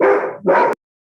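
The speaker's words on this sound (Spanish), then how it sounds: "Perdón que tengo las perras acá." Two quick, loud barks from dogs close by indoors, one right after the other, then silence.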